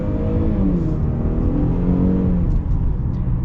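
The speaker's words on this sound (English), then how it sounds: "But let's get up and get our acceleration with this." A 2022 Range Rover Evoque compact SUV accelerates hard from inside the cabin, engine droning loudly as its pitch climbs through the gears, with a brief dip at a shift.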